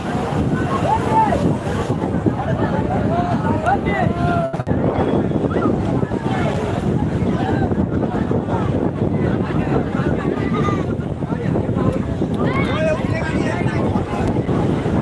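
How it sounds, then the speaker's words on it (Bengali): Sea waves rolling in at morning high tide on New Digha beach, a steady, loud wash of surf blended with gusty wind buffeting the microphone, continuous throughout with no clear breaks. "আমরা সরাসরি নিউ দীঘার সৈকতের সকালের জোয়ারের মুহূর্তটা তুলে ধরেছি"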